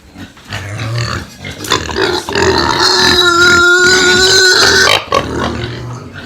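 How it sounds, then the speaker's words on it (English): Pigs grunt and squeal loudly up close, with a long, harsh, drawn-out cry in the middle and shorter grunts around it. "pigs are noisy"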